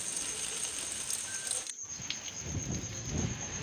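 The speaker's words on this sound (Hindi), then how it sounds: "इतनी तेज बारिश है आज" Heavy rain pours steadily in a village with strong gusting wind, a broad continuous wash with a brief drop before rougher low buffeting returns.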